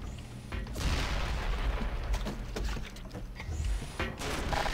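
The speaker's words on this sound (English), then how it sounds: "So there's currently a tank firing at me." A tank fires in the Black Mesa video game, heavy booms and rumbling blasts recurring over a noisy wash of explosions and debris, loud and close throughout.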